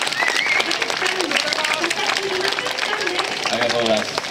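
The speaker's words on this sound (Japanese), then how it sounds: "もう一度盛大な拍手よろしくお願いします" Audience applause at an outdoor concert by a Japan Ground Self-Defense Force band on a marathon side stage, steady broadband clapping throughout with a voice speaking over it.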